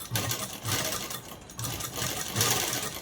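A sewing machine stitches cutwork fabric, its motor whirring in short, steady bursts with brief pauses between runs, loud and close with no talking.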